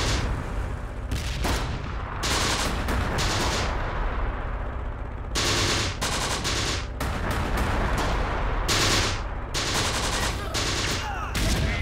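Tank cannon fire and rifle and machine-gun gunfire from the Close Combat wartime desert tactics game, heard as dense, loud, continuous volleys of shots and blasts with only brief gaps.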